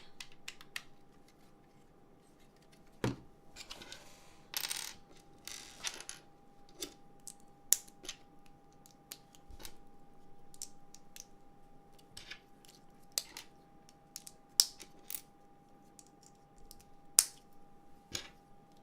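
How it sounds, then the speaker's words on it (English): Plastic LEGO bricks from a Star Wars Rebel U-Wing Fighter set, number 75155, clicking and rattling during a build, with sharp scattered snaps and small clatters over a quiet room, no talking. "Clicky bricks."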